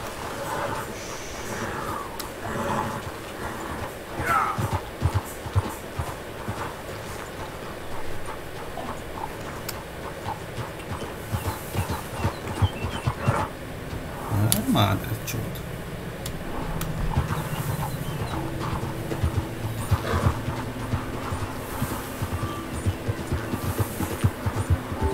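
A horse in Red Dead Redemption 2 moving at speed, a steady patter of hooves with snorts and breathy huffs over a continuous game soundscape, fairly loud and busy throughout.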